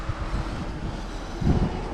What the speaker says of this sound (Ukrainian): Вітер, дивіться, який вітер, ребят.